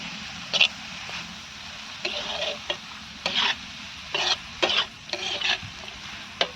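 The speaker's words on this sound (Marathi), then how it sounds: "हे करायचं का हा चांगलं हलवून घ्यायचं मीठ टाकून" A spatula stirs dried Bombay duck (bombil) chutney with salt in a pan, producing repeated scraping bursts in irregular rhythm over a steady frying sizzle, fairly close and moderately loud, with no talk.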